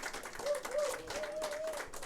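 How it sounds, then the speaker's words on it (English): Applause from a studio audience on a sports talk show, a steady wash of clapping that fills the short stretch at moderate loudness with no talk over it. "Round of applause"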